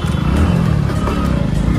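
A Hero Splendor motorcycle pulls away on a road, its engine a steady, loud, close rumble with no voices over it.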